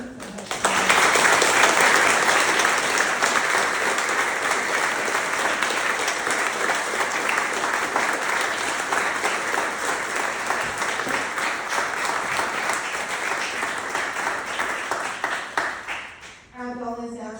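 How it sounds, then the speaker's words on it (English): An audience at the Spyridium launch applauds to congratulate Sally, with loud, sustained clapping from a crowd that starts abruptly, holds steady, then fades near the end as a voice returns. "Can we please join our hands to congratulate Sally for her"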